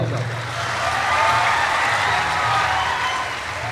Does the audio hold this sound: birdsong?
no